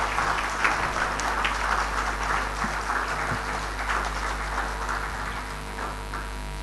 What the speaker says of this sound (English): I would like to invite all the participants to give big applause